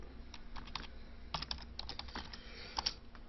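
Fingers type code on a computer keyboard in quick irregular bursts of soft close clicks, with brief pauses between runs of keystrokes and no one talking.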